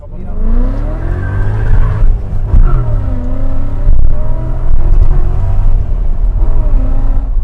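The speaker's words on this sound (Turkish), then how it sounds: "Tam istediğim gibi bir egzoz yaptı. Biraz gürültülü." A loud BMW 540i V8 engine with an aftermarket exhaust revs and drones with rising and falling pitch, a deep throaty exhaust roar close by, with voices partly under it.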